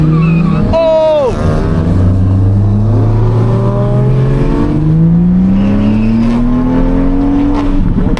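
A Toyota Supra engine revs and pulls up through the gears while driving at night, loud and close, the pitch climbing steadily in long sweeps, with people talking and shouting over it inside the car.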